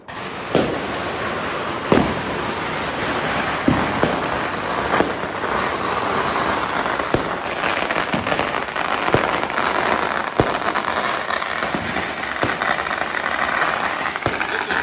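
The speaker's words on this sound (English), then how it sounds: "These are not fireworks put on by the city" Chinese New Year firecrackers and fireworks pop and crack outside a house near midnight, sharp bangs scattered irregularly over a constant hiss and rumble of distant explosions.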